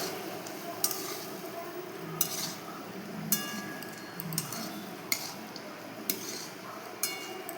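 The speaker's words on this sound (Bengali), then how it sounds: "এবার ভালো করে আমি এটা মিক্স করে নেব।" A spoon stirs and scrapes through a taro stem dish mixed with chilli, peanuts and grated coconut, giving regular metallic clinks against the pan about once a second over a soft background hiss.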